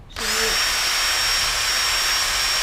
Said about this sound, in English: you need to get your nice drill with a wire wheel and just wire wheel this